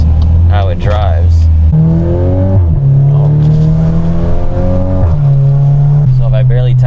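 A VW MK8 Golf R fitted with a Milltek turboback exhaust revs loudly at close range. The engine note climbs and holds in stepped stages, dropping between them before rising again.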